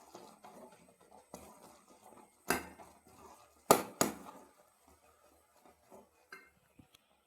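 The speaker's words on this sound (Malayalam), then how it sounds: "ഇനി ഇതൊന്ന് ഇളക്കി കൊടുക്കാം." Flour stirred in a pan with ghee for manaputtu gives soft, scattered scrapes and a few sharper utensil knocks against the pan, close and fairly quiet, without talk.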